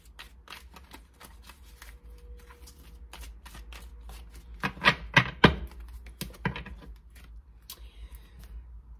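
Tarot cards are shuffled by hand at close range, giving a steady run of soft riffling flicks with a louder burst of quick snaps in the middle, then quieter handling.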